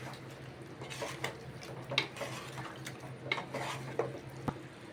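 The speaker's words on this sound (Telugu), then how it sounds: "బాగా మిక్స్ అయ్యేలా కలుపుకోవాలి." Spoon scraping and clinking in a pot while coriander powder and garam masala are mixed into a chicken drumstick curry, soft scattered taps over a quiet background hum.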